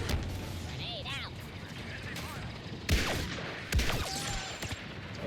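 Star Wars Battlefront 2 match with a grenade blast and bursts of blaster gunfire, two sharp loud impacts amid distant shooting and whistling effects, with voices in the background.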